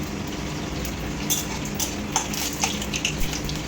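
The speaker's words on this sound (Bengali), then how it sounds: "পেঁয়াজটা ভেজে দিচ্ছি।" Onion frying in a pan with panch phoron while cooking a Bengali fish curry: a steady sizzle under occasional clinks and scrapes of a spatula against the pan.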